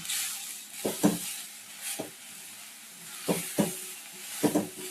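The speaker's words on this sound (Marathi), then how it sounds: "तर गॅस ना फास्टच करून याला परतून घ्यायचं" Jaggery stir-fried in a pan over a high gas flame for modak filling, a soft continuous sizzle with repeated scraping and tapping strokes of the spoon against the pan at uneven intervals.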